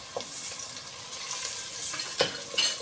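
Butter frying with sautéed onions in a pan for Black Sea–style haşlama, a steady soft sizzle broken by a few light stirring scrapes, close and unaccompanied.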